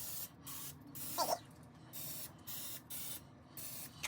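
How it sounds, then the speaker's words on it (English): Short bursts of cooking spray hiss repeatedly in a steady rhythm onto a muffin tin, close by, with a light metallic clink partway through. "So we're going to spray down the tins."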